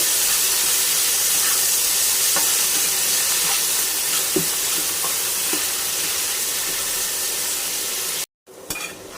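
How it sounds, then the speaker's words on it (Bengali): Diced potatoes, onion and garlic fry in a pan with a constant hissing sizzle and occasional spatula clicks, then the sound cuts out abruptly near the end and resumes more quietly. "এটাকে আমি ভাজা ভাজা করে নেব"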